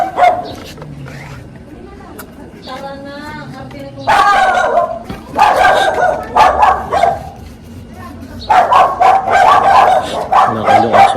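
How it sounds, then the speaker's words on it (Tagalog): Dog barking in bursts at a residential gate while grass-killing herbicide is being sprayed, sharp barks and yips coming in clusters alongside someone talking. "Nakakalo aso."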